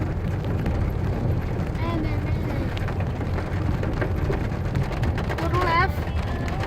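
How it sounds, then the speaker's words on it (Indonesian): Steady rain pours outdoors near the Tumpang Dua waterfall in Kotabaru, South Kalimantan. A dense, even hiss carries on throughout, with a few faint high chirps and a murmur of voices underneath. "Suasana hujan."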